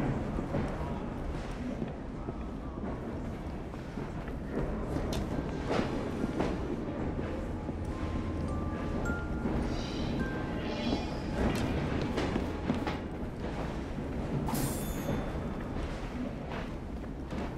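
Steam-era train moving in the video game Assassin's Creed Syndicate: a continuous loud rumble and clatter of rolling carriages, with scattered metallic clanks and a brief high screech.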